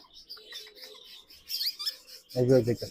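Chirpy bird calls and short whistles from a pet parrot in a pet shop, ending in a louder burst of voice-like parrot chatter near the end.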